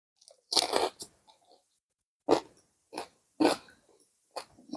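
Loud crunching bites of MRE chicken chunks on a tortilla from a US First Strike Ration, close up, in a few sharp bursts separated by short pauses, with no talking.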